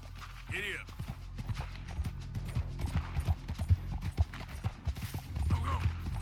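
A horse's hooves clip-clop at a steady trot in Red Dead Redemption 2, with a whinny near the start and creaking tack underneath. A voice speaks briefly over the rhythmic hoofbeats.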